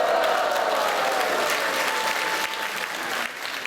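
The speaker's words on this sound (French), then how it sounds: "applaudissez Caroline Love, vous allez me faire oh en applaudissant par exemple" An audience at a Bain de Bretagne radio singing contest claps loudly and continuously, a dense close wash of applause from a crowd that fades slightly toward the end.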